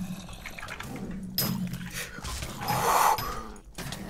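A dog in a Minecraft game snarls and growls in low rough bursts, moderately close, against a busy game background.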